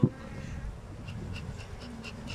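Honeybees at an opened hive during a Turkish beekeeping inspection, a steady close buzz with individual bees droning past the microphone, outdoors and without speech.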